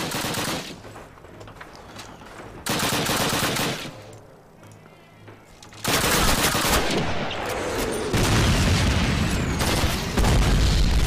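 Heavy battlefield gunfire and booming artillery in Call of Duty 1's Warsaw tank factory level, loud bursts arriving in waves with dense crackling shots and deep rumbling blasts, no talking.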